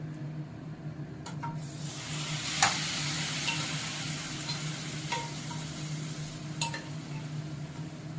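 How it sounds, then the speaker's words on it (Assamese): Ginger and garlic fry in oil, sizzling steadily in a pan, with a few sharp clinks of a utensil against metal scattered through. "আদা নহৰুখিনি ভাজি লৈছোঁ আগে"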